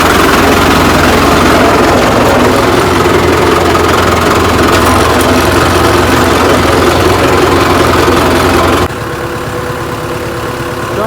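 A heavy tractor engine rumbles loudly and steadily with a knocking idle, close by, during peanut field spraying, then drops suddenly to a quieter hum near the end.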